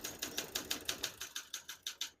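Typing on a 1966 Olympia SM9 portable manual typewriter, about a dozen crisp, evenly spaced key strikes at a brisk steady rhythm, close and clear with no voices.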